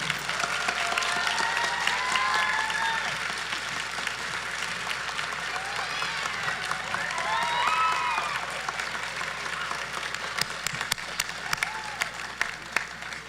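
An audience at a nursing program pinning ceremony breaks into loud, sustained applause, with scattered whoops and cheers rising over steady clapping throughout.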